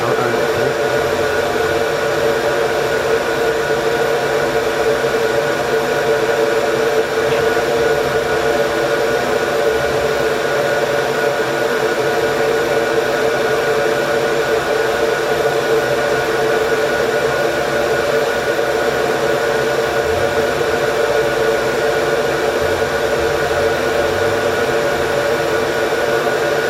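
An xTool F1 engraver runs with a steady, even whir and airy fan hiss that holds unchanged and moderately loud throughout, with no talk.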